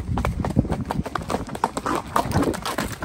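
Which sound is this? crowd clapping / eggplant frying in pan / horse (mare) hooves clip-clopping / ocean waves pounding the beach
horse (mare) hooves clip-clopping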